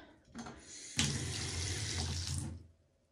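Tap water gushes into a bathtub at bath time, a loud, steady rush that opens abruptly after a brief splash, runs for about a second and a half, then cuts off.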